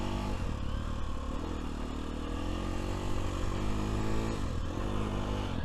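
A 2025 Sherco 300 SEF dirt bike engine runs steadily and loudly nearby in a dirt pit, with a constant rumbling drone, slight pitch shifts from throttle changes and some mechanical clatter, no talking.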